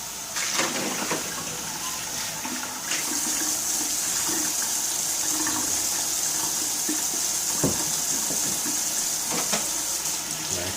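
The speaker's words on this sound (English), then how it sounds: "Do a quick rinse." Tap water runs steadily over Omega VSJ843 vertical slow juicer parts being rinsed in a sink, a constant close splashing stream broken by occasional clunks of plastic pieces.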